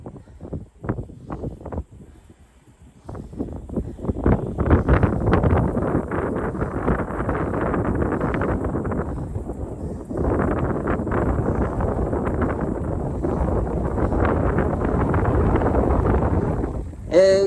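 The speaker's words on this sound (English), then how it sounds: "You might notice it being a little windy up here." Strong wind buffets the microphone atop an Outer Banks lighthouse in North Carolina, a loud, continuous rushing roar with brief lulls and gusts, starting with a few faint bursts before settling into sustained blowing.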